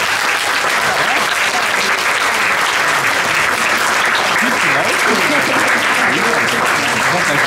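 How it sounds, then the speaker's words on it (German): Loud, sustained applause from a large talent show final audience, dense clapping filling the whole stretch without letup. "dann jetzt bitte euer Applaus"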